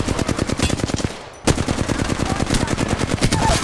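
Rapid automatic gunfire rattles in a video game shooter, a dense, loud burst of closely spaced shots that pauses for a moment before resuming in another sustained stream.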